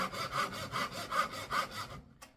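A hand saw cuts through wood in a woodworking workshop, with about five steady back-and-forth strokes in an even rhythm, close and clear, before the sawing stops and a faint tap follows.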